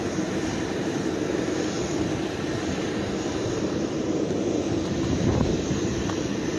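Airplane cabin and engine noise during a flight: a constant low roaring drone fills the space evenly, broad and steady with no voices.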